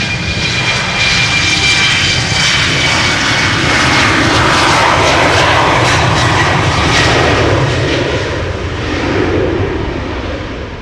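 A KLM jet airliner departs Amsterdam Schiphol for Hamburg, a loud, close, sustained roar of jet engines that swells and holds before easing slightly at the end.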